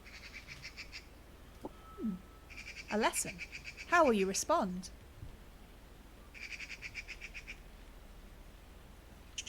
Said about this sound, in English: the noise that magpies make that you can hear in the background